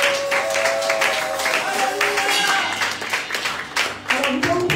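A church congregation applauds and cheers, a steady wash of clapping with scattered voices and shouts rising through it over several seconds.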